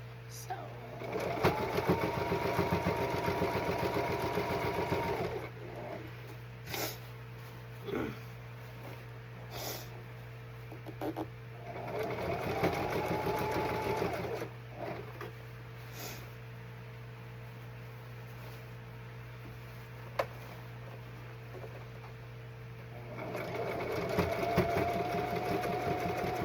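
A sewing machine stitches black striped pants in three long runs of steady, rapid whirring, separated by pauses with small handling clicks and a constant background hum.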